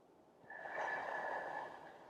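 A breath drawn and released through the nose during a Reiki breathing exercise for calming sadness and anxiety, one soft, steady, close airy rush lasting about a second and a half, alone.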